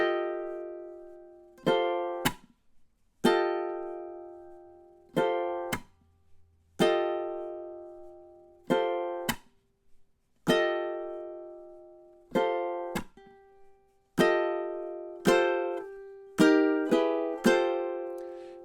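Ukulele plays a theme, bars 22 to 25 of the second section, in short plucked phrases separated by brief gaps, each note ringing and decaying, close and clear with no talking.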